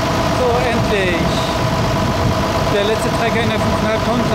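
At a tractor pulling event in the 5.5 tonne class, a heavy tractor engine rumbles steadily and loudly throughout, with a dense, continuous roar and no pauses.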